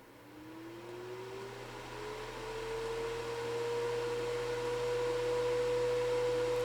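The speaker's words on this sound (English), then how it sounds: "So let's test how loud the fan modes are on this BISSELL air purifier." A BISSELL MYair air purifier fan running on low speed gives a steady broadband whoosh with a faint tonal hum that rises slightly in pitch during the first seconds, then holds constant and close.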